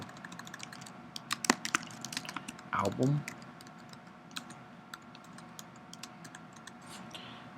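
Rapid clicking of keys on a computer keyboard, fairly close, with bursts of typing code and a brief spoken word partway through.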